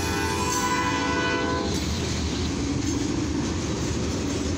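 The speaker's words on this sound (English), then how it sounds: "This is a CFE mixed freight train. Actually, this is a steel train" A CFE mixed freight steel train rolls past a road crossing while its horn blares loudly for the opening moments, then fades into a continuous rumble and clatter of rail cars passing close by.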